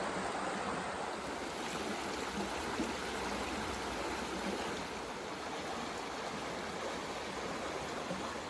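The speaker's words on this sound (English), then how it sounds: "The creek is flowing good." A rain-swollen creek running strong after a day of heavy rain, a steady broadband rush of flowing water that holds a constant level throughout with no voices.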